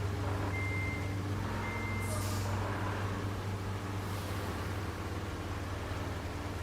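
A truck reverses in Roadcraft while a steady engine idle drones underneath, and a few short reversing beeps come through clearly at a moderate distance.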